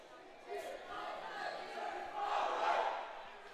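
Dodgeball teams from New Zealand and Spain at a world championship foam mixed match shout a group cheer breaking from their huddles, a rising crowd of voices building to a loud yell in an indoor hall.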